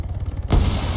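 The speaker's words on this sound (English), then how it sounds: "Shot on the bridge." A single booming gunshot in an Arma Hunger Games event, heard midway through after a low rumbling background, loud with a short decaying tail.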